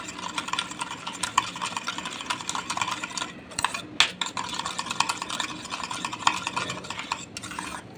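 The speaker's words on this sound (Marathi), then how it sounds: "दह्यामध्ये आपण टाकूया साखर साखर व्यवस्थित हलवून घेऊया" Sugar being stirred into yogurt for dahi vada, a spoon scraping and clinking steadily against the bowl for several seconds, close and fairly quiet, with no talk.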